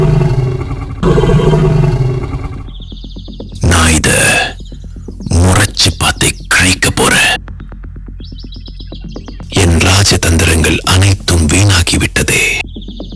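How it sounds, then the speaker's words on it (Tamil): Deep, rumbling animal roars burst out in several loud surges, broken by gaps and mixed with dramatic voices and scattered high chirps. "அந்த கர்ஜனை அது சிங்கராஜா"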